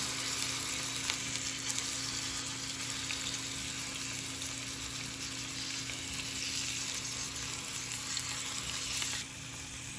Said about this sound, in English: we just got to sear it for about 1 minute on each side.